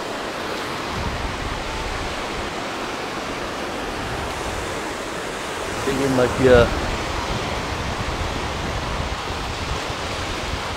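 A river near the sea at Evrenseki, Side, rushes in a steady, broad wash of flowing water, with a person speaking briefly over it.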